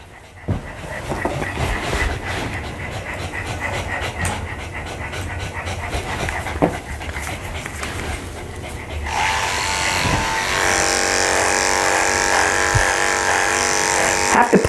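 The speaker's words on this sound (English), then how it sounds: "I'm going to shave around his neck" Electric clipper shaving the neck of a Pekingese dog during grooming, a steady motor buzz throughout with a dog panting, and the hum turns louder and brighter as the blades press into the coat.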